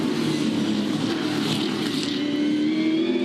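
V8 Supercars racing at the Townsville 500 street circuit in 2014: a continuous loud engine roar with a rising, revving pitch as cars accelerate, steady throughout without pause.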